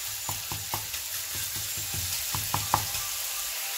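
Vegetable noodles frying in a pan, a steady sizzle broken by a series of sharp tapping stirs of a utensil against the pan, close and without talk.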